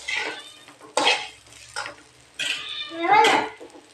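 A cat meows several times in short bursts, mixed with clinks of dishes and kitchen clatter nearby.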